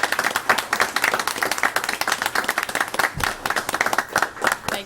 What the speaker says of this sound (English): Parents, would you stand so we can applaud you?